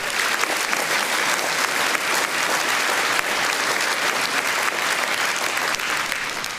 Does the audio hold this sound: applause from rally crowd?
yes